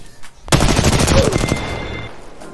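Loud, rapid automatic gunfire in the battle royale game Apex Legends, a dense burst of shots starting abruptly and lasting about a second before trailing off into quieter game noise.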